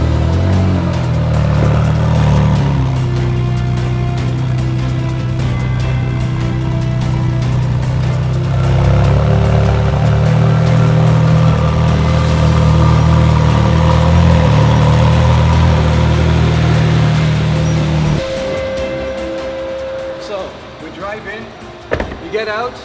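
A car engine idles with a steady low hum as it pulls up to a car wash door at a coffee lounge in Al Quoz, then cuts off near the end; someone talks throughout.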